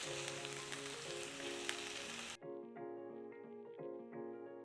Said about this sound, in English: I'm going to start by adding some oil in my pan, my onion in the oil.